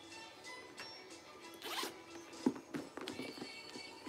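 A zipper on a purse slides open in a quick rasping pull, followed by a few soft handling clicks and rustles, close and clear.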